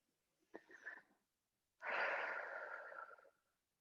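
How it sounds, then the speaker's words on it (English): Slow inhalation through the nose during a guided meditation, a soft breathy rush rising and holding for about a second and a half, after a brief fainter breath sound, close and quiet with no talk. "Inhaling through my nose."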